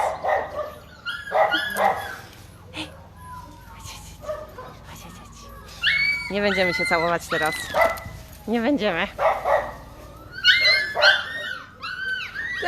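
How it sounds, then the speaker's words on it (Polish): Several puppies yip, whimper and bark in short, high bursts indoors, with someone speaking close by over the scattered, uneven noise of the litter. "a tam hałasują oczywiście szczeniaki"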